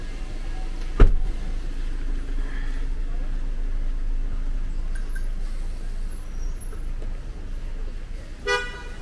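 A car passing on a street in Dongshankou, Yuexiu District, Guangzhou: steady traffic rumble with a sharp thump early on and brief high squeaks and a short toot near the end, under faint background street sounds.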